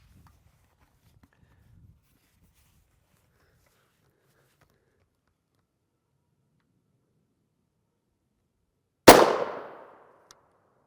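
A single gunshot strikes an NIJ Level IIIA bulletproof armor plate with its front cover removed: one sudden, sharp, loud crack that decays quickly, after a long near-silent stretch with only faint movement.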